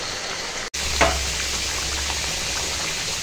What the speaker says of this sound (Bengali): এখন অল্প অল্প জল দিয়ে আর কষাচ্ছি